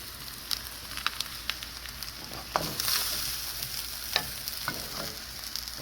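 Egg fried rice with spring onions stir-frying in a hot pan, a close sizzle broken by sharp clinks and scrapes of the spatula, with no voices.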